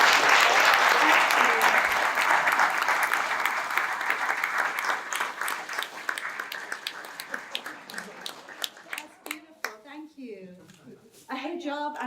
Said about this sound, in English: I think this calls for a final applause.